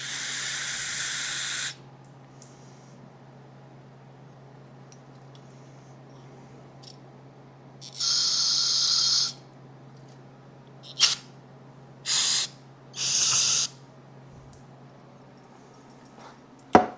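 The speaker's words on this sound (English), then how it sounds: "Now that I got it all soaked in brake clean" Brake cleaner aerosol sprayed onto Kawasaki motorcycle parts in several sharp hissing bursts, one long blast at the start, another midway and a few shorter squirts, with a low steady hum in between.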